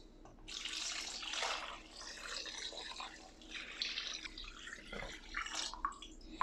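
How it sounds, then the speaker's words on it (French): Water poured from a tap or jug into a large pot of pot-au-feu ingredients, a steady rushing splash with changing pitch as the pot fills, close and continuous for several seconds. "Donc là, je vais submerger d'eau."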